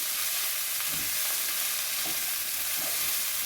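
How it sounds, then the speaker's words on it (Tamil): Red capsicum and other vegetables sauté in a pan for rava upma, a continuous soft sizzle with occasional stirring movements, close and even. "இப்போ இதெல்லாம் வதங்கி வர"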